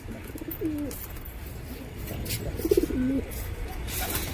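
A Shiyalkuti pigeon coos in two short, throaty phrases, the second a little longer, heard from a moderate distance over a steady outdoor background hiss.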